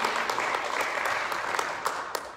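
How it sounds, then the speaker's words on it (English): Steady applause from a forum audience for city council candidates, dense and continuous for a couple of seconds with a few sharper claps standing out. "Let's give all of our candidates a round of applause here."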